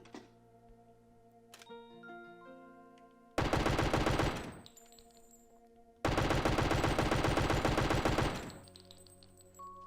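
Two loud, sustained bursts of rapid automatic machine-gun fire in a video game, fed from a bullet belt with no reloading, each lasting a couple of seconds and separated by a short gap with quieter game tones and clicks.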